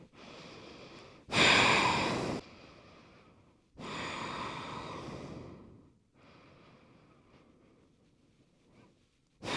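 Slow, audible breaths drawn in and pushed out during a yoga child's pose in a vinyasa heart-opening sequence: a few long, airy inhales and exhales, close and soft, with pauses between and no talking.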